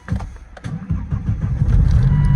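A Proton car engine cranks over on a jump pack in short, uneven bursts, then catches and settles into a loud, rough, steady running note close by.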